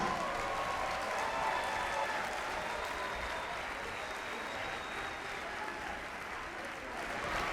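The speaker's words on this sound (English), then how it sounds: "One more round of applause for our awesome Symphonic band, please." Sustained applause from a sizable audience at a school band concert, a dense even wash of clapping that holds steady throughout.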